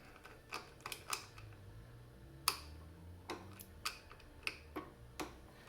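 A torque wrench clicks while tightening the clutch bolts on a vintage Can-Am 250 motorcycle, giving a series of sharp, quiet metallic clicks at irregular intervals in a hushed workshop.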